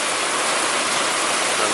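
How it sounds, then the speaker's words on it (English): Steady rain falls outdoors during a thunderstorm, a dense, even hiss with no thunder clap, heard alone with no talk. "there is thundering and rainy"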